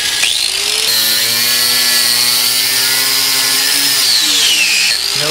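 A power tool grinds steadily through a rubber utility trailer tire held down by a heavy anvil, a loud continuous whine with a drifting high pitch and low harmonic drone throughout.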